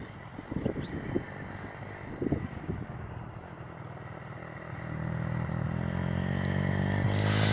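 A small pit bike engine runs while being ridden on boggy, wet ground, the motor a steady mid-distance drone with a few clattering bumps early on and the pitch settling louder and steadier toward the end.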